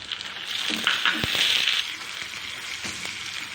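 Tomatoes tipped into browned onions frying in oil, giving a soft, steady sizzle with a few light crackles and clicks, close by and moderately loud, no voices.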